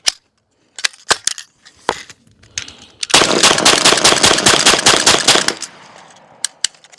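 Rapid semi-automatic pellet shots from a BINTAC T9 9mm airgun with a belt-fed magazine fire in a dense, loud burst lasting a couple of seconds, with scattered single clicks and shots before and after.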